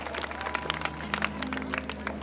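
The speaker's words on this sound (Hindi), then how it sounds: "एक बार अपने गांव के लिए जोरदार ताली बजाओ जी।" A crowd at a Balaji devotional jagran claps loudly and continuously, dense overlapping applause with a low steady hum and tones beneath it.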